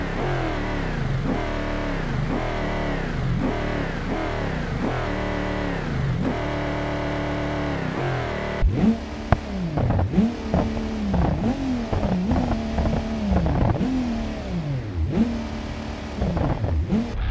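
Car engines roar and rev hard at a drag race start in the BeamNG.drive game, with repeated loud rising and falling revs, then a burst of acceleration through several gear shifts. No one speaks.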